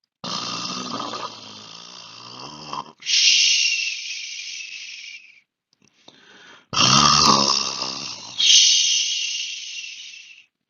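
A human voice imitates a lion snoring, with loud rasping inhale-exhale snores in a steady rhythm, grouped in pairs and separated by a brief pause.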